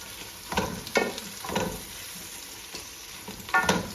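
Capsicum sautéed in prawn-fried oil for a prawn biryani sizzles quietly in the pan, broken by several distinct stirring scrapes and clatters at a loose, irregular rhythm.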